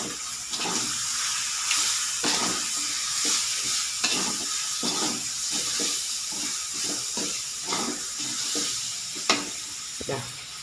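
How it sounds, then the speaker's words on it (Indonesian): Tuna pieces fry in a pan for a spicy sweet Sundanese sambal oncom meal, with a steady bright sizzle of hot oil broken by repeated stirring and scraping knocks close by, with no speech. "Kita lagi goreng ikannya dulu ya teman-teman ya"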